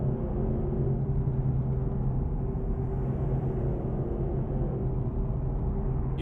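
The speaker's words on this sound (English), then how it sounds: "But this AMG sounds absolutely beautiful." A Mercedes C63 AMG 6.3-litre V8 modded into Euro Truck Simulator 2 drones with a steady, loud, low engine rumble throughout, holding an even pitch with no talking.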